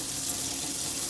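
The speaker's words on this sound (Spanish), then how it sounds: "ya le abrimos el suministro de agua a la llave" Water runs steadily from a sink faucet just after the supply to the tap is opened, a loud continuous hiss and splash close by with no talking.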